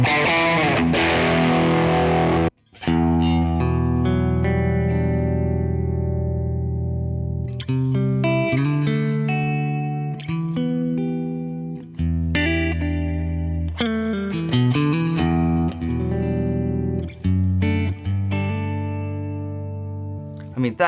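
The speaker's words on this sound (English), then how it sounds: "let's see what it sounds like with an overdrive pedal in it." Electric guitar run through a Kemper profile of a Matchless amp with an overdrive pedal, playing sustained overdriven chords and melodic lines, loud and steady with a brief gap near the start.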